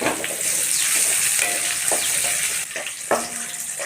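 Green chillies and stripped curry leaves fry in hot oil, giving a loud continuous sizzle with a few stirring scrapes and a brief drop in intensity near the end.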